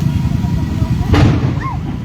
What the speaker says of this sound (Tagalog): Yun nagsasabugan yung mga tangke.